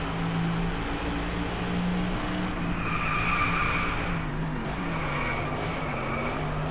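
A car's tires skid and squeal under hard braking in the racing game Driveclub, a continuous harsh scrubbing with whining tones over a steady engine roar, loud and close throughout.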